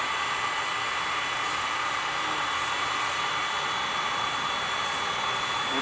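Sliding Bean Bouncer coffee bean roaster running mid-roast, a constant loud whooshing fan and heater roar like a hair dryer, steady and unbroken with no talking.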